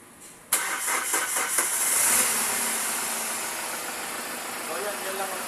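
A car engine cranks with a sudden onset of several rhythmic starter pulses, then catches and settles into a steady idle nearby, from an action star's vehicle with a battery problem.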